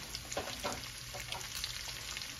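Celery softening in a hot pan makes a steady, moderate sizzle with light crackles and irregular stirring taps throughout, close by, with no voices.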